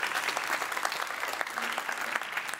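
Loud, dense applause from a seated audience at a Dutch symposium on building a greener future, steady sustained clapping filling the hall without a break.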